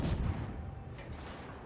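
Heavy warship guns firing in World of Warships, one deep booming salvo at the start rolling off into a low rumble, a softer report following, no speech.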